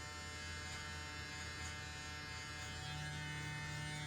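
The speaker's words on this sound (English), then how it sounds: "go ahead and close the clipper all the way, and same thing, just start" During a beard fade, an electric hair clipper closed all the way buzzes close by in a constant high-pitched drone with a steady hum underneath, running alone without talk.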